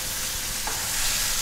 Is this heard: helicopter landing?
no